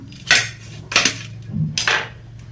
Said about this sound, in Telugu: టమాటాలు అయితే కట్ చేసుకుంటున్నా.